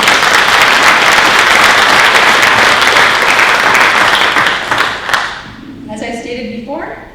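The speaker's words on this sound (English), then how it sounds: "We'll take a hand of applause." Loud, sustained audience applause fills a hall at a university awards ceremony, a dense wash of clapping that fades near the end as people begin talking.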